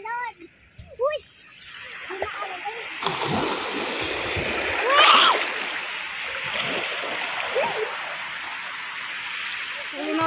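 Someone bathing in the sea sets off steady splashing and churning water that runs on through the clip, close by and fairly loud, with people talking over it.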